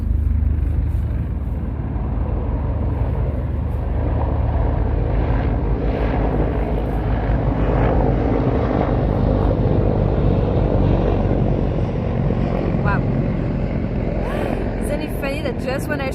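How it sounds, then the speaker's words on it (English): A helicopter passes overhead outdoors, its broad rotor and engine roar loud and sustained the whole time, with a voice heard talking faintly beneath it. "there is like a helicopter passing over me"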